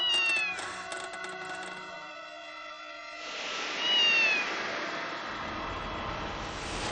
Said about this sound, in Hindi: ऊपर से बिल्ली म्याऊं म्याऊं कर रही है